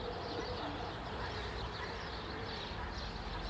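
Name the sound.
birds (pigeons) cooing outdoors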